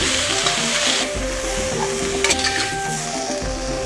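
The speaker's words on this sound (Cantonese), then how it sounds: "韭菜花就要提前炒下佢，俾啲鹽有底味就可以炒到啱啱熟橙漆。" Garlic chives stir-fried with salt in a hot wok make a loud, continuous sizzle with a spatula scraping and tossing, and a few brief metallic clanks in the middle. No voices.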